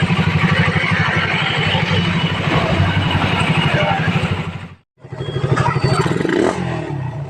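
A motorcycle engine fitted with a Koso 30mm carburetor revs loudly and steadily up close, with a rapid throbbing beat. It drops away sharply for a moment, then picks back up and roars on.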